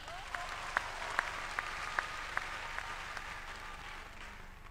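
Convocation audience at a Founder's Day ceremony applauding in a large hall, a steady wash of many hands clapping with a few sharper claps standing out at regular intervals, continuing at moderate level throughout.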